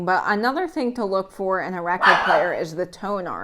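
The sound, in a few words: dog barking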